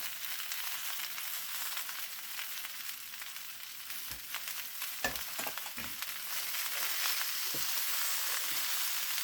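Bacon frying in a pan, a soft, steady crackling sizzle with a few stirring scrapes midway, heard alone without talk.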